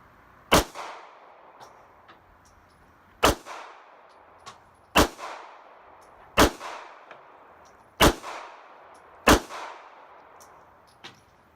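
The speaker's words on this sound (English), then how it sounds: "I'm going to start off shooting some hollow points out of the 6-round magazine" A Sig Sauer P238 pistol firing hollow-point rounds from a six-round magazine outdoors at a range, six loud sharp reports spaced about one to two seconds apart, each trailing off in a brief echo.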